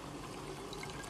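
Water pouring into a marine toilet on an off-the-grid houseboat in Coron, Philippines, a steady faint trickle and splash running for about a second with no talk.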